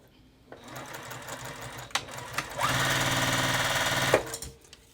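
A sewing machine stitching quilt pieces together runs in a close, loud, steady whirring burst of rapid needle strokes, preceded by a few short clicks and handling sounds, with a voice speaking over part of it.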